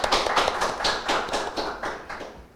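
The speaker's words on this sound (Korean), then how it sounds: "박수." A small group claps in a steady, even rhythm, about eight close, crisp beats that gradually soften, during a training session for urban agriculture managers on school garden programs.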